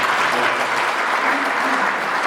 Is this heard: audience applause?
yes